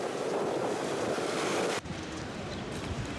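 Sea waves wash onto a shore below six windmills on Mykonos, Greece, in a continuous, loud surge roar mixed with wind buffeting the microphone. The sound dips briefly partway through, then carries on.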